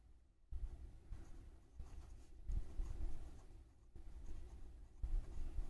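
A maths formula being written out by hand, with pen or chalk scratching in short strokes and pauses against a faint low background hum, and no talking.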